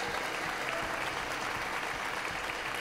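A large crowd applauding at the EA E3 press conference, continuous dense clapping that holds steady and loud throughout, with no voices standing out.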